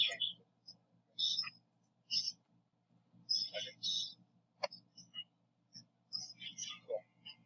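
Mouse clicks on a computer, sharp and quick, some in close pairs, scattered across the stretch over a low steady hum, with soft muttering voices in between.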